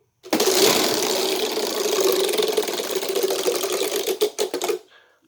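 A homemade Wheel of Fortune model wheel spins with a rapid, steady ticking clatter that runs for several seconds, then slows into a few separate clicks before stopping.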